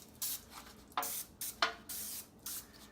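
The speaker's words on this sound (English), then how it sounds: "making sure that your loaf pan is nicely greased with some Pam or some olive oil or anything really, but we're using Pam" Pam cooking spray misting a loaf pan for banana bread: about six short, close aerosol hisses in quick succession, each a brief sharp spray with quiet pauses between.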